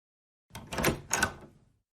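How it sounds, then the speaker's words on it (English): Door opening up close, a short two-part rattle and scrape lasting about a second against an otherwise silent background. "could you get the door for me"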